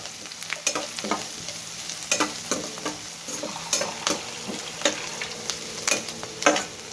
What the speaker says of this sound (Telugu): ఇవి ఎర్రగా వేగాలి.